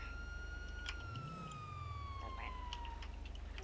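A police car siren in GTA 5 Online wails faintly over a constant low engine drone, with a brief rising whoosh as something passes.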